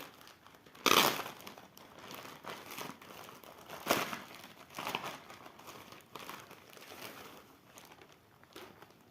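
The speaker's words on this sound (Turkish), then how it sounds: "Birlikte kargoyu açmak istedim sizlerle." A cargo package holding a book is opened up close: sharp crinkling and tearing of plastic wrapping in irregular bursts, with quieter rustling in between and no talking.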